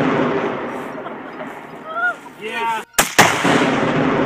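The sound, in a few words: Sure Shot exploding target detonating after a gunshot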